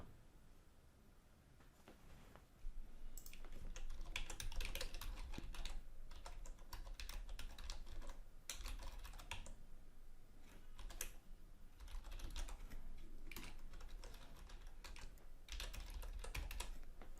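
Fingers type on a computer keyboard while filling in an online sign-up form, with bursts of rapid, close key clicks and brief pauses between them, continuing steadily with no voices.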